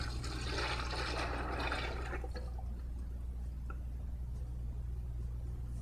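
Plasti Dip tint pours into a 5-gallon bucket, a brief gushing liquid splash in the first two seconds that thins to a faint trickle and drip over a steady low hum.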